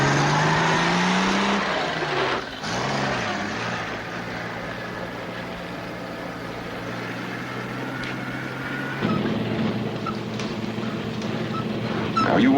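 A military vehicle grinding through mud in four-wheel drive, its engine a continuous heavy rumble with a pitch swell early on and a rise in loudness near the end, with no voices.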